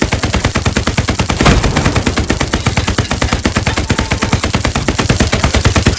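Dense, loud automatic gunfire in the video game Hell Let Loose: continuous rapid bursts crackle for the full six seconds with barely a pause, one heavier report standing out near the start, and no voices.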